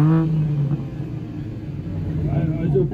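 A car engine revs hard at full throttle during a sound-level measurement at a car meet, a loud, sustained close-up roar with a low rumbling drone under it.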